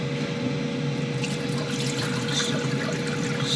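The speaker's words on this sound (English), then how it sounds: "just spill out that white water." Starchy white water poured off washed rice in a home kitchen, a continuous close splashing pour with running-water hiss throughout, no talking.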